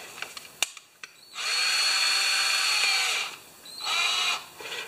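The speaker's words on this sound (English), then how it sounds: "Drill." A power drill whirs loudly for about two seconds, stops briefly, then runs again in a shorter burst, after a few light clicks and taps, during valve grinding on a Honda EB2200X generator.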